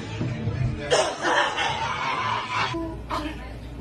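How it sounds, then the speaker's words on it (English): A person coughs and sputters several times at close range, rough, throaty bursts mixed with snorting, chuckle-like sounds, loud and uneven over about four seconds. "Karens are known to cough and spit frequently."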